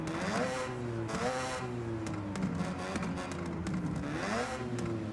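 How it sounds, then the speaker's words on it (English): A car engine in Forza Horizon 6 revs repeatedly at a car meet, with the pitch climbing and falling in several loud, close surges over a steady engine drone. "I can rev the engine without being in the car."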